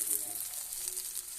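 Chopped onion and green chili sizzle in hot oil in a pan while cooking a pumpkin-leaf mash, a soft, steady hiss with faint crackles, fairly quiet and close, with no talking over it.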